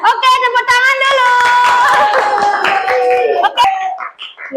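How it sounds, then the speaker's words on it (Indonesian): Hand clapping in a classroom, steady and close, heavily mixed with children's voices that cheer and talk over the claps throughout before fading near the end. "Oke, tepuk tangan dulu."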